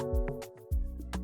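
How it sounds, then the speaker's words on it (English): A melodic instrument line in an Afrobeat beat remake, treated with hybrid reverb, plays a brief phrase of sustained tonal notes whose tails ring out rather than cutting off sharply. "a hybrid reverb, and which sounds like this."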